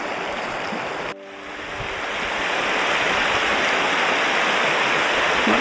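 The River Livet pours steadily and loudly after a short break near the start, a continuous broadband wash of fast-flowing water close by.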